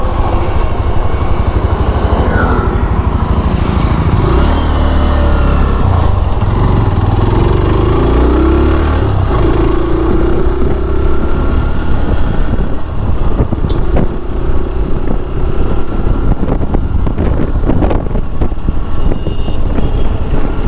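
A new Hero Glamour X 125 motorcycle engine runs loud and steady throughout a test ride, droning with continuous engine noise and shifting rumble as speed changes.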